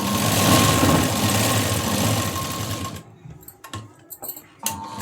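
A sewing machine stitches along the edge of a cotton sleeve lining with a loud, steady whirring run for about three seconds, then stops, leaving a few faint handling clicks and a short final burst.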